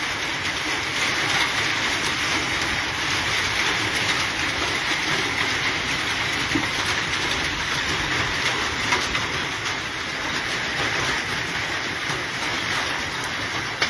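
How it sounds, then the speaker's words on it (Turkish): Hail pounds steadily on a walnut orchard and hazelnut fields in a Turkish village, a dense, continuous hard rattling hiss without pause, loud and close. "dolu yağıyor."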